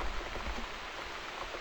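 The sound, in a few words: rain in the video game The Cat Lady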